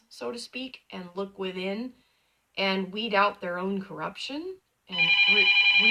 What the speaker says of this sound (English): excuse the phone, hold on a minute.